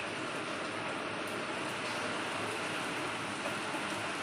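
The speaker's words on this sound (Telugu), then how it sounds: "చూసారా ఫ్రెండ్స్ బీభత్సమైన వర్షం హన్మకొండ ప్రాంతంలో" Heavy rain pours down over Hanamkonda, a dense, constant hiss of downpour that stays steady and fairly loud throughout.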